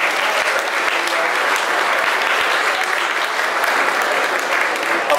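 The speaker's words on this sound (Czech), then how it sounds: "i oni si zaslouží váš bouřlivý potlesk" Sustained, even applause from tables of guests at a wine tasting in Moravské Budějovice, a thick wash of many hands clapping together for several seconds without pause.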